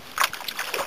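A canoe paddle dips and strokes through river water in a few soft splashes and sloshes, close by and quiet, during a multi-day river trip.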